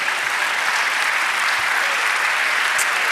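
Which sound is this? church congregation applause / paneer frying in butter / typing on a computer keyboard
church congregation applause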